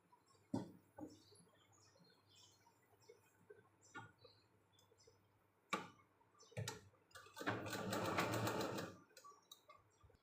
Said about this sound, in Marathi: मी खालच्या बाजूला इथं टिप मारलेली आहे.